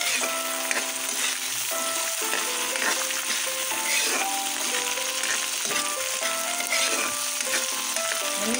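Onion and tomato sautéing in a pan for ginisang ampalaya with eggs, a steady dense sizzle of frying that runs the whole time without pause, close and fairly loud, with no talking over it.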